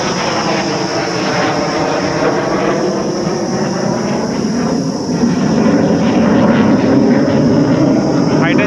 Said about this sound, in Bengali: Fighter jet.